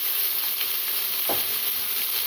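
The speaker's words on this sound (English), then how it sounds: "Now we're getting some sizzling" Vegetables and onion sizzle steadily while sautéing in a pan, a constant bright frying hiss with one brief louder stir or scrape partway through, close and alone without talk.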